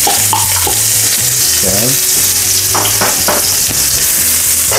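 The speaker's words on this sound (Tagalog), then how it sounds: "Siyempre, magigisa na tayo ng sibuyas." Onions sautéing in hot oil in a pan, a loud continuous sizzle with a low hum beneath and occasional stirring clatter; a voice speaks briefly.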